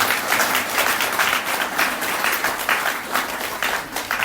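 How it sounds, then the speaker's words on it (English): Audience applause at an Alcoholics Anonymous convention in Northumbria and Tyne, a steady roomful of clapping sustained without pause, fairly loud and dense with no voices over it. "you're quite rightly giving yourselves, as part of AA, a round of applause for that"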